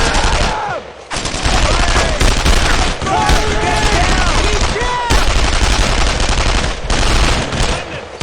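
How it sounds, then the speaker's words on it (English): Sustained, loud automatic gunfire in a tactical video game rattles almost continuously, with brief dips in the firing and shouted voices mixed into the battle noise. "Don't stop firing! Suppressing fire!"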